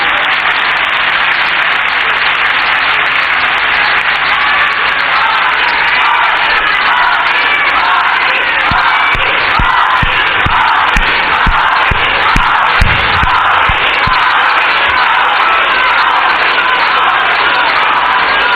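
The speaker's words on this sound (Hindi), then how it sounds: "एक बार जोरदार तालियां हम अपनी इस संगठन के लिए" A large crowd at a Bharatiya Janata Party political rally claps and cheers continuously and loudly, with whoops and shouts rising in the middle.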